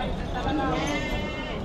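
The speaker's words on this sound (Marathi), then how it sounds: "ह्या सगळ्या पिल्लावाले शेळ्या आहेत बघा, पाहू शकाल" Goats bleat at a large goat and sheep market in Chakan, Maharashtra, a dense chorus of overlapping wavering cries close by, heard over the hubbub of people talking.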